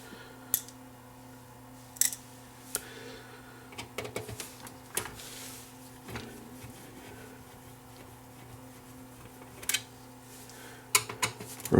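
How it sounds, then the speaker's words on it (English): Screws come out of an Onkyo TX-SR705 receiver with a screwdriver: sparse, sharp metallic clicks and scrapes at close range over a steady electrical hum, with short bursts of louder rattling. "remove all the screws."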